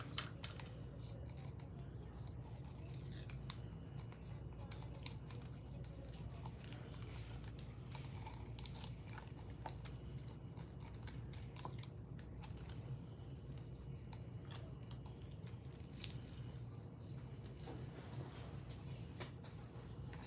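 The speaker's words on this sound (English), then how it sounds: "I'm gonna peel off that protective paper." Protective paper is peeled and crinkled off a chunky glitter craft bow, with faint scattered crackles and ticks over a low room hum, quiet and close, no voices heard.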